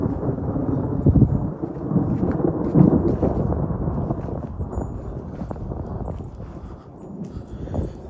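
Thunder from an approaching thunderstorm rolls in low, deep rumbles that swell and fade over several seconds, heard outdoors during a walk with rustling steps close by.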